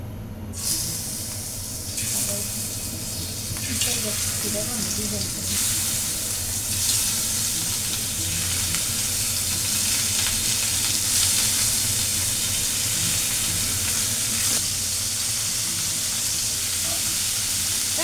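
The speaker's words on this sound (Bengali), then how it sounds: "তেল গরম হয়ে গেছে, আমি মাছগুলো দিয়ে দেব।" Snakehead fish frying in hot mustard oil in a pan, a steady, fairly loud broadband sizzle that holds evenly for the whole stretch with no voices over it.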